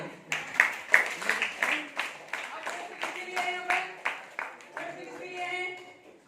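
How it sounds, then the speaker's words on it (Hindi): Classroom students clapping in a loose, uneven rhythm of distinct claps, fairly close and moderately loud, with a few voices and some tonal sounds mixed in toward the end. "जोर से तालियां"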